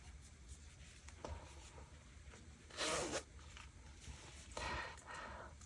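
A zipper sewn onto a crocheted ribbon pouch is pulled open and shut in several short, close, quiet zips, with soft handling noise between them and no talking.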